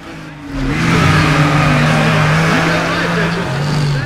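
A Corvette engine revs hard in Need for Speed ProStreet, a loud, sustained roar with rising and falling pitch as it accelerates, with a voice speaking over it.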